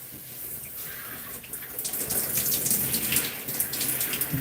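A tap runs steadily while conditioner is rinsed from hair, giving a continuous close splashing wash that grows slightly fuller, with no talking.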